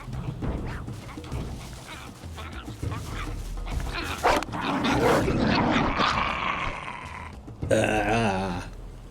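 A short-eared dog in the survival video game Fountain of Youth growls, yips and whimpers during an attack, loud and agitated over game ambience, ending in a sharp high cry.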